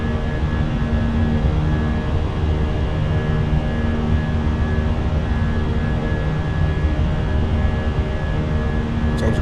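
A steady, loud jet roar from the IAE engines of a Fenix A320 airliner in Microsoft Flight Simulator as the throttles go up for climb, a broadband whoosh with a constant engine hum held throughout.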